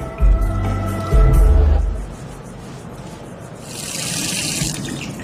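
Water running from a kitchen faucet, starting partway through after some earlier tonal sounds, then a steady, fairly close hiss of flowing water to the end.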